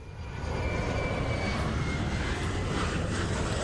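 A simulated Piper Dakota propeller aircraft in Microsoft Flight Simulator 2024 drones with a steady, loud engine roar that swells over the first half second and then holds even, with no voices.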